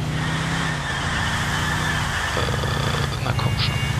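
A car in the video game GTA IV drives with a steady, loud engine drone, its pitch shifting partway through, with brief tyre noise toward the end.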